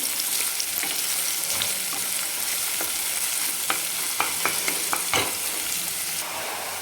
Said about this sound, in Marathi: दोन मिनिट हाय फ्लेमवर घ्यायचं परतून